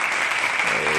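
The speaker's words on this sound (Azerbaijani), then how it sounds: "Bu alqışlar da sizin üçündür" A studio audience at a TV quiz show breaks into a brief, dense burst of clapping, loud and close throughout.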